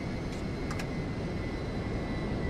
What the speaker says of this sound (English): Got an F-16 just taxiing in back there.